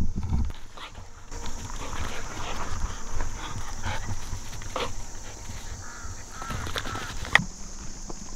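Dogs bark in the morning in the Himalayas, with scattered, moderately distant barks and a few caw-like bird calls over a steady outdoor hum.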